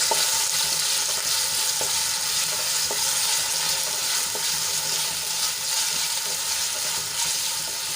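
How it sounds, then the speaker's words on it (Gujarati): Cut potato pieces sautéing in hot oil, a loud continuous sizzle and crackle with a few faint stirring knocks, close and steady without any talking. "એ એડ કરી દઈશું અને સરસ રીતે તેલમાં સાંતળી લઈશું"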